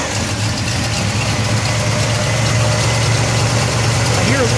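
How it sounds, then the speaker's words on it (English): A 1970 Pontiac Trans Am with a Ram Air III V8 idles close by, a steady low rumbling drone with a faint ticking from an exhaust leak on the right bank, with someone talking over it. "I hear a little bit of an exhaust leak on this right bank."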